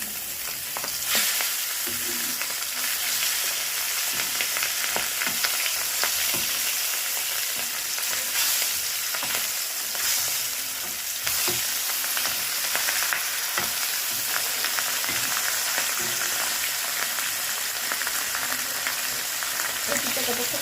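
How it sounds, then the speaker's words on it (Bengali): Katla fish sizzle steadily in hot oil, a dense continuous crackle with occasional spatters throughout. "লাল লাল করে মাছগুলো ভেজে নেবে"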